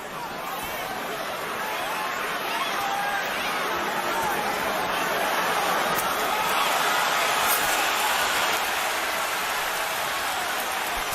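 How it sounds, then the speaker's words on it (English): A boxing arena crowd during a Mosley versus Mayweather fight swells into a dense, steady roar of cheering and chatter that builds gradually and holds loud throughout. "Crowd is now rising in the excitement of watching Mayweather do his thing"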